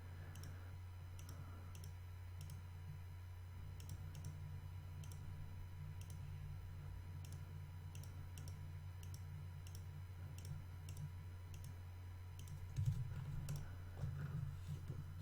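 Mouse clicks while Ctrl-clicking in Inkscape: sparse, faint, sharp ticks at irregular intervals over a steady low electrical hum, with no voices.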